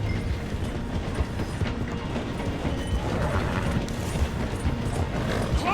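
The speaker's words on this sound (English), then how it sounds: "The train is slowing down to go through the station." A steam-era train slowing through a station in the video game Red Dead Redemption 2, a dense continuous rumble with clattering wheels and creaking carriages, steady throughout.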